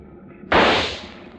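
A single rifle shot fired at sea, a sudden loud burst that decays over about a second against quiet background.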